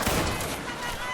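Musket volley fired by massed infantry in a Waterloo-era Napoleonic battle video game, a short, dense crackle of overlapping shots heard amid the noisy din of combat.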